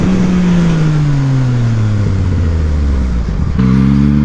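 A Yamaha MT-09 motorcycle engine drops steadily from a high rev as the throttle is released, then picks up sharply again near the end, loud and close with no talking.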